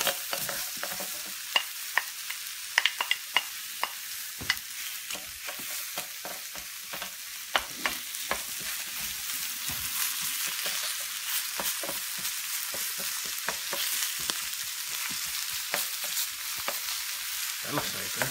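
Walleye cheeks fry in a pan with a steady, fairly quiet sizzle and crackle, punctuated by frequent sharp pops and spatters, heard close up with no talking.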